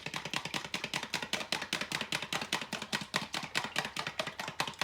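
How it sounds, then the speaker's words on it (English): A fork beats raw eggs with punctured yolks in a bowl, a quick, steady run of close, sharp strokes repeating several times a second with no talk. "You puncture your yolks of the eggs, and then you start mixing them up"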